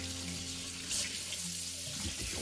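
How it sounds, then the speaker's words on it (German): Lukewarm tap water runs steadily over a smoked pork belly in a sink, a continuous close splashing rush with slight shifts as the meat is turned under the stream. "waschen den Bauch jetzt mal mit lauwarmem Wasser ab."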